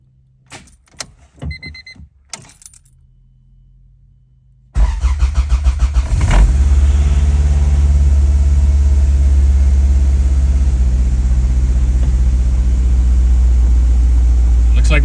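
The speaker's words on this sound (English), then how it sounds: "let's try one more time to start this car." A B20 VTEC engine cranks and catches after a few clicks and brief crank attempts, then settles into a loud, steady, rough idle close up, running continuously for the rest of the clip.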